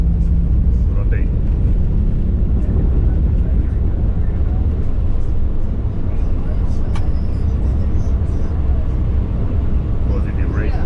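Airliner takeoff roll and climb heard from inside the cockpit: a loud, steady broadband engine and airflow roar fills the clip with little variation, while crew voices call out over it.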